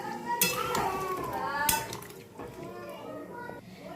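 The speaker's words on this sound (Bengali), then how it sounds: "নাড়িয়ে নিচ্ছি" Cauliflower curry stirred in a pot, with close, irregular scraping and clinking of a utensil against metal and a few sharper knocks, set against a voice talking.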